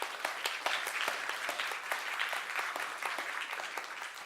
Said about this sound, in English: Round of applause for our talkers.